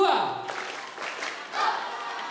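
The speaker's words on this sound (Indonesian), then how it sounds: "saya minta semuanya tepuk 1" A crowd clapping together in loose bursts on a leader's counted cue at a National Waste Awareness Day event, fairly loud and roomy, with some voices mixed in.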